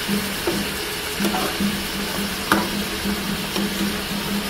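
Pabda fish frying in a spicy masala, a steady close sizzle with faint stirring scrapes and occasional small pops, no voices.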